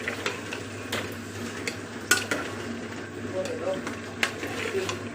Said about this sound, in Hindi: अब इसको मिक्स किया और इसे भूनने दिया।